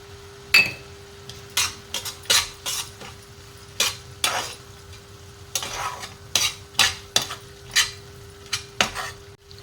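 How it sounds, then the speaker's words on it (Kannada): Masala with crushed cashews fries in a pan with a little water: a low sizzle under repeated spoon strokes, clinking and scraping against the pan in an uneven rhythm, close and without talking. "ಸ್ವಲ್ಪ ನೀರನ್ನು ಸೇರಿಸ್ಕೊಂಡು ಫ್ರೈ ಮಾಡಿಕೊಂಡೆ"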